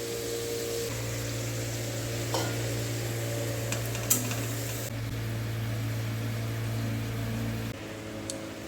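Potatoes and spices frying in a pan get stirred, a low steady sizzle with faint scraping and a few light clinks of utensil against the pan, close and continuous.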